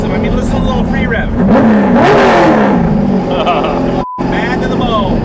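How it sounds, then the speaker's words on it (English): A V8 hot rod engine free-revs in loud rising and falling surges, with a brief dropout near the end and a voice talking over it. "I mean, listen to a little free rev."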